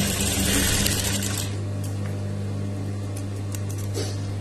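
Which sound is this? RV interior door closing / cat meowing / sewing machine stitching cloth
sewing machine stitching cloth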